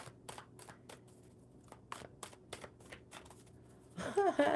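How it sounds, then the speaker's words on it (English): Playing cards are shuffled at a table, a run of short riffling bursts spaced through the clip, fairly close and soft, ending in a louder rustling flurry, with no talk. "One more good shuffle, Ermi."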